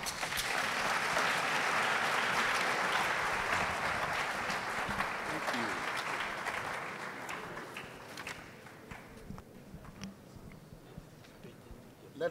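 Audience at a university Chancellor's Week event applauds its speakers: a thick burst of crowd clapping that gradually dies away to scattered claps, with faint voices in the room as it fades.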